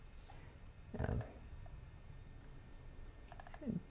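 Two short bursts of quick keystrokes on a computer keyboard, faint and close, set against a quiet room background with no speech.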